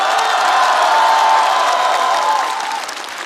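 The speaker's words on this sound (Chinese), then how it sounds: "我们把掌声送给年轻一代" A studio audience at a televised entertainment show breaks into loud, sustained applause with a faint crowd murmur, tapering off over the last second.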